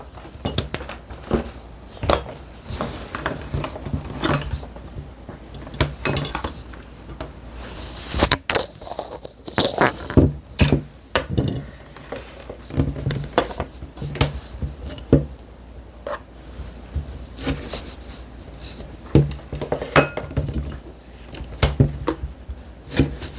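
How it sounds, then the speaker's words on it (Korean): A knife slicing red and yellow paprika on a cutting board, giving a long run of irregular close taps and knocks with a few louder clacks, no talking. "빨간색 파프리카를 반 개를 썰어줍니다."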